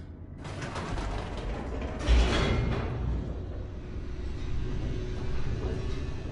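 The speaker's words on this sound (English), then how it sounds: "We're on an express elevator to hell!" Elevator descending in The Stanley Parable, a steady low mechanical rumble with creaking and rattling, rising briefly in loudness near the middle and then rolling on evenly throughout.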